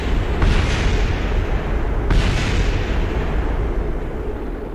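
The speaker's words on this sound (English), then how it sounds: "I'm gonna hear some more explosions." Explosions in Kerbal Space Program rumble as a continuous loud, deep roar, with two sharper booming bursts standing out about two seconds apart.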